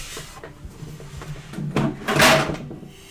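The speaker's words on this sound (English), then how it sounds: "You just cannot help yourself but to knock over my easel." A cat knocks over a wooden easel indoors, giving a scrape and a clattering wooden knock that builds to a loud crash and rattle over about a second.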